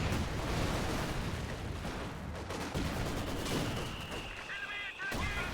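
Rapid mortar and artillery fire hits a mortar half-track in a World War II strategy game match, a dense continuous roll of booming blasts and crackling gunfire with faint voices mixed underneath.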